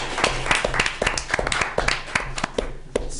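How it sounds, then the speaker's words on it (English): Hands clap in a school board meeting's round of applause for a new assistant director for special education, a modest group of separate claps in an irregular patter, fairly close and moderately loud, with no talking over it. "we can give him a round of applause"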